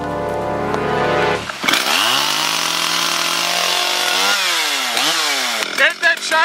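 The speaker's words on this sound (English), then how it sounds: "Now I'm just going to go and start the chainsaw" A chainsaw starts up and runs loud and close, its high buzzing engine revving and easing off in several surges over a few seconds.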